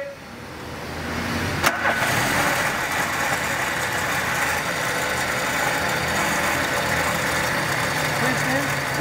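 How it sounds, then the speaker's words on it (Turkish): Volkswagen Polo 1.6 engine cranking with a brief sharp start, then settling into a steady, fairly loud idle with a continuous mid-pitched hum and vibration; the engine is faulty, stalling when the car is put in neutral. "Şimdi araca marş yapıyoruz. Son sesini bir duyalım."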